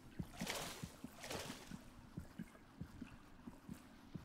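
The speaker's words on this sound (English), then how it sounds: "I definitely just heard a heart beating." Heartbeat in the video game Hollow Knight beside an underground lake, soft regular low thumps pulsing steadily beneath a faint watery ambient wash.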